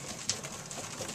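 Young racing pigeons coo softly while being trapped into the loft, a brief low coo against steady outdoor background noise.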